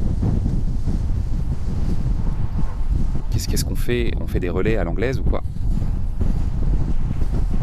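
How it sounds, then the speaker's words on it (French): Steady wind roars across the microphone during a fast group road ride among pros and amateurs, a constant broadband rush with two riders briefly talking in the middle. "le vent vient un peu de la gauche"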